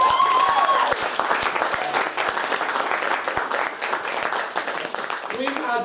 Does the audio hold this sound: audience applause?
yes